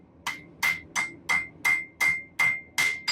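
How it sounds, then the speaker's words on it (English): Light hammer taps on a Damascus steel billet at forge-welding heat, coated in borax: nine evenly spaced, sharp metallic strikes with a ringing tone, close and clear with no talk. "We're gonna do some light taps."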